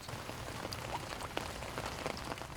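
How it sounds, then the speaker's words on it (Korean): Rain falls on a rooftop farm among city buildings, a dense even patter with scattered sharper drops tapping nearby surfaces, no voices. "빗방울 하나하나도 다 귀합니다."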